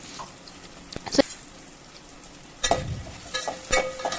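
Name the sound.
onions and green chillies frying in a pan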